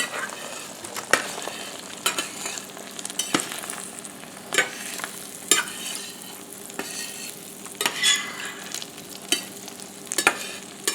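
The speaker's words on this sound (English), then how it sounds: "I let it set for just a minute or so, and then I start pushing the egg to the center." Scrambled eggs frying and being stirred in a pan, the egg pushed toward the center as it sets: a steady crackling sizzle with repeated sharp scraping strokes of a utensil across the pan, close and alone without talk.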